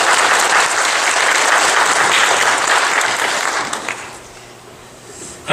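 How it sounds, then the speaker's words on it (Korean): A church congregation claps loudly and steadily to welcome a guest pastor, a dense sustained applause that tapers off toward the end. "우리 주 안에서 그 격려 박수 환영하는 박수를 크게 하겠습니다."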